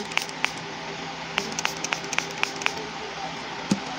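Rice water facial toner sprayed onto cotton from a spray bottle, heard as a series of short, sharp spritzes in uneven rhythm. The spritzes are close but faint over steady background hiss.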